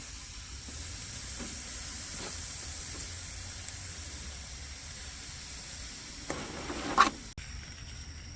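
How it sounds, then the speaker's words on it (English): Country ribs sizzling directly on the grate of a Weber kettle grill, with a soft, steady hiss and a brief clatter near the end. "Put them directly on the grate to get some caramelization for a few minutes."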